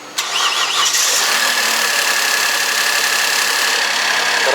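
Rebuilt 3.3-litre G6DH car engine cranking and catching on its first start, then running steadily at a loud, even idle close to the microphone.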